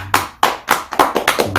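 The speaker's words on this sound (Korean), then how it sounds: "하나님께 기쁨과 감사의 박수를 드리십시오" A church congregation claps together in a brief burst, a handful of sharp, close, rhythmic hand claps with a steady beat.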